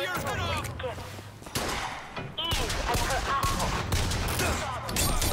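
Rapid gunfire in the PC game Bioshock Infinite, loud and continuous, with a person talking excitedly over the shots.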